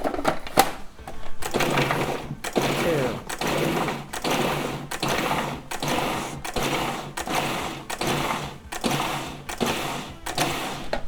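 A food processor pulses a raw stuffed mushroom filling with lettuce thrown in, about a dozen short, evenly spaced whirring bursts separated by brief gaps, loud and close.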